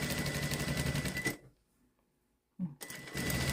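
A sewing machine topstitches a shirt collar, a fast close mechanical rattle that runs continuously, stops for about a second of near silence, then starts again with a clunk and keeps running steadily.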